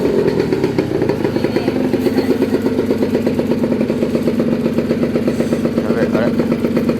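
A Honda NS50F motorcycle engine runs just after starting, a close, loud, rapid pulsing putter with a buzzy edge that keeps an even beat, and voices appear briefly over it.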